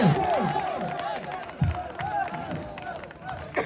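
Crowd at a tug-of-war match claps and cheers to welcome a team, a dense wash of hands and voices with a loud announcer talking over it throughout.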